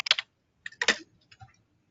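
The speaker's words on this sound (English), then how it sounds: "I can hear some typing." A few quick keystrokes on a computer keyboard click in two short clusters, faint and close over an otherwise silent online call.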